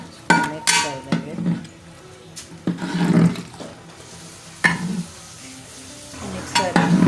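Rice soaked for about two and a half hours is stirred into a cooking pot for aloo tehri, with repeated scraping and knocking of a utensil against metal over a soft sizzle.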